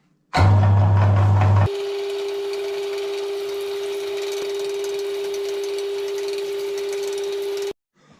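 An electric meat grinder fitted with a coarse plate grinds meat and fat for juniper sausage. A loud low rumble at start-up settles into a steady, even motor hum with a fixed whine, then it cuts off abruptly.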